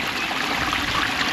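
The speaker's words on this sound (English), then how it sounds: "Yeah, lovely few cascades there." A garden waterfall cascades over several drops into a pond in Hertfordshire, a steady close wash of splashing water without pause.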